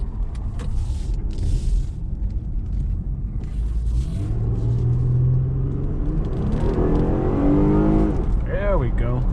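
A 2010 Acura TL accelerating in regular drive mode, its engine note rising steadily as cabin rumble builds, with a voice talking over the sound throughout.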